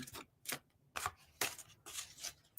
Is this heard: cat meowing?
no